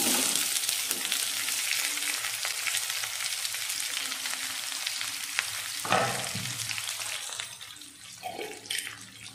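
Thinly sliced onions and green chilies dropped into hot tempering oil with seasoning seeds for a Telugu brinjal curry, a loud steady sizzle and crackle with occasional scraping stirs and clinks near the end.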